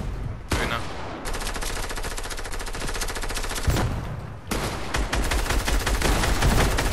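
Rapid automatic gunfire from a Fortnite match crackles in loud, dense bursts, with brief pauses between strings of shots.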